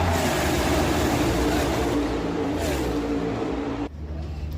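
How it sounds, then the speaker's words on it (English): Stock cars roaring past at Talladega Superspeedway during a NASCAR race, caught on a phone: a continuous loud, dense engine roar with surging pass-bys that cuts off abruptly near the end. "we got a new little sound going into our NASCAR segment that I recorded myself on my phone of the cars absolutely flying by"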